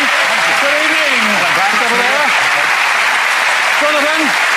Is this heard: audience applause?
yes